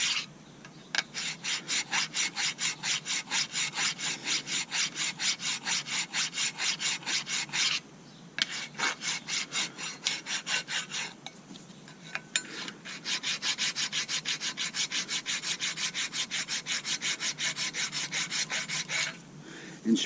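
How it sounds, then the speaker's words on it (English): A German brake file rasping against brake parts during a pad and rotor job on a Buick LeSabre: long runs of quick, even back-and-forth filing strokes, close and steady, broken by a few short pauses. "I'm buying that German brake file from Germany"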